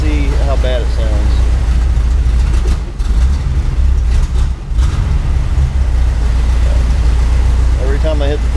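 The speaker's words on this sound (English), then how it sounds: "So we're going to hit the throttle, flip it, and see how bad it sounds." A 1980 second-generation Camaro V8 with a Holley carburetor runs loud and close, its engine note rising and dipping as the throttle is hit, with a few sharp breaks in the rumble and someone speaking over it.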